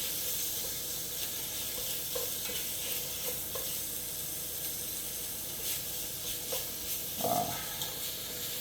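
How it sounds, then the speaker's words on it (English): Bacon sizzles and fries in a pot for corn chowder, with a steady hiss throughout and a few soft scrapes and clinks of a spoon stirring partway through, close and fairly quiet. "we'll give this just a quick little stir"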